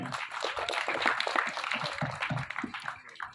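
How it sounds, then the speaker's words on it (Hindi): A Mumbai audience at the Border 2 trailer launch claps for Bhushan ji, a moderate, uneven patter of applause mixed with voices in the crowd, fading toward the end. "भूषण जी को एक बार जोरदार ताली चाहिए"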